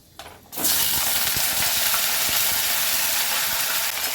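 Vegetables hit hot oil seasoned with panch phoron, bursting into a loud, steady sizzle after a brief quiet start, with occasional clinks of stirring throughout.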